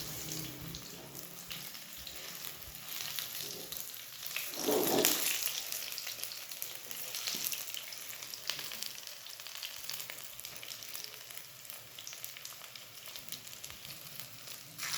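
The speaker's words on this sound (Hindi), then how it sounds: "ये देखिए ये फ्राई हो गए" Cabbage kebabs fry in a pan with a soft, continuous sizzle and occasional crackling bursts, steady at low level throughout.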